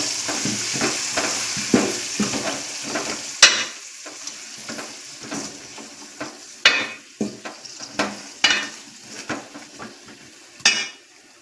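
Mutton masala, garam masala, chilli and turmeric powders fry in oil with a steady sizzle while a spoon stirs and scrapes against the pan in irregular clinks and knocks.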